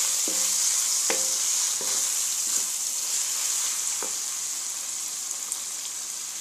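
Minced meat (keema) browning in hot oil for a kachnar keema dish gives a steady close sizzle, with a few sharp clinks of a spoon against the pan.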